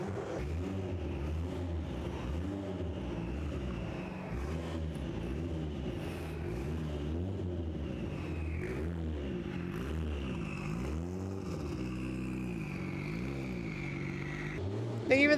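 An engine-swapped car drives past steadily and loudly, its engine note rising and falling in repeated revs with a constant road roar throughout, and a brief louder burst at the very end.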